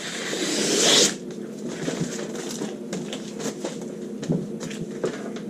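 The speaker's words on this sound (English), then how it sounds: "Now we're going to cut our side seam." Scissors snip through blouson fabric along a side seam. A quick rasping cut comes first, then scattered light ticks and clicks.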